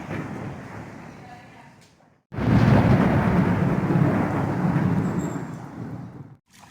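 Heavy rain pours over a village during a thunderstorm. A low, dense roar of thunder and rain swells suddenly and stays loud and continuous before cutting off near the end, after a quieter stretch of rainfall.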